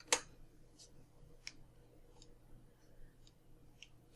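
Sparse keyboard taps at a computer, typing a search word in a 3D modeling program's model library, a handful of quiet separate clicks spaced through a hushed room with a low steady hum beneath.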